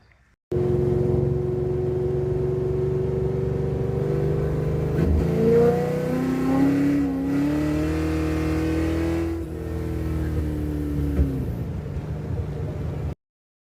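A loud project car, a modified build nicknamed White Trash, idles and revs hard as it drives, its throaty engine note climbing and falling in sustained surges before cutting off abruptly.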